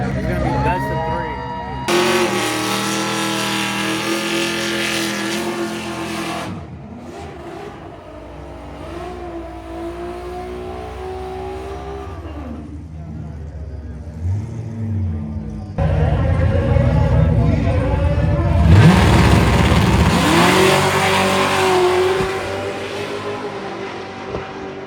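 Drag cars race in a TJ versus Camaro final, engines roaring and revving loudly in long bursts with rising pitch, as a crowd and voices sound underneath.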